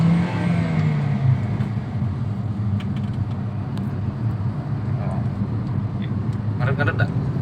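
A manual 2014 Toyota Vios tuned with Blackcore pulls in a steady, continuous engine drone from inside the car, with voices talking over the sound.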